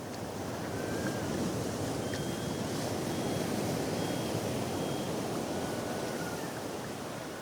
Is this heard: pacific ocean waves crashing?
yes